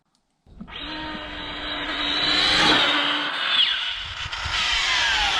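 RC car on a speed run rips off from silence into a loud, high-pitched electric whine that climbs as it accelerates, with wavering skids and scrabbling tires as it squirrels for traction on warmed tyres.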